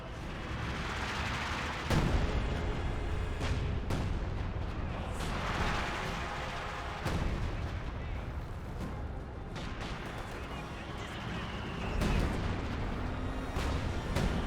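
Artillery barrage in the World War II strategy game Company of Heroes 2, heavy booming shell impacts landing every second or two over a continuous rumble of battle noise.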